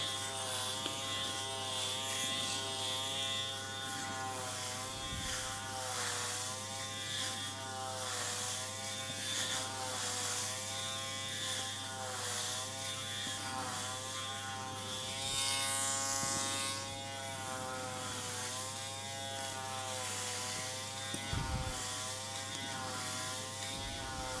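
An Aberlite Touch 2 rechargeable electric head shaver runs across a scalp, giving a steady close-up motor buzz with slight shifts in pitch as it moves over the head, continuous and alone with no talking.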